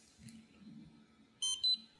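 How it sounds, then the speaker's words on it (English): A barcode scanner powers on with two short, sharp electronic beeps in quick succession near the end, close and clear over a quiet room. "turn on the barcode scanner by holding the small power button until it beeps"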